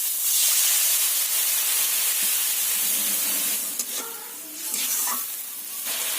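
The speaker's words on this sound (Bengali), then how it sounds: "দিয়ে দেবো অল্প করে জল যাতে মশলাটা পুড়ে না যায়" Spice paste with turmeric and salt frying in a pan for an ol and fish curry hisses loudly as a little water goes in, the sizzle easing off with a few clinks and spatters toward the end.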